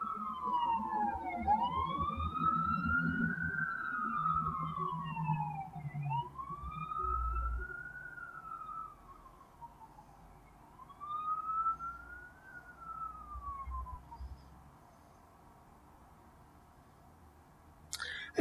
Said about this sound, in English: That is just a siren going by